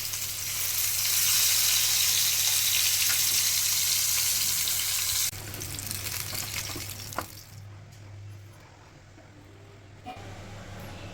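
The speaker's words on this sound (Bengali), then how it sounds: "প্রথমে নুন হলুদ দিয়ে মাছ ভালো করে ভেজে তুলে নেব।" Rohu fish coated in salt and turmeric sizzles loudly in hot mustard oil in a village kitchen, a continuous bright hiss that drops to a quieter crackle partway through.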